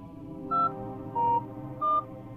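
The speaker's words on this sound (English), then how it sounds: "You dial a phone number." Three touch-tone beeps from dialing a phone number, evenly spaced and clear over a faint low background hum, with no talking.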